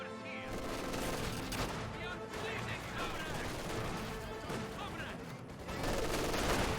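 Infantry gunfire rages through a Company of Heroes 2 battle, Ostheer Grenadiers against Soviet Guards and conscripts, with dense overlapping rifle and machine-gun bursts sustained loudly throughout and a commentator talking over the combat.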